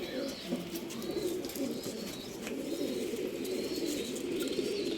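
Pigeons coo softly and repeatedly in a loft of old-line male birds kept for sale, low rolling calls forming a steady layer with faint chirps above, fairly quiet and without clear speech.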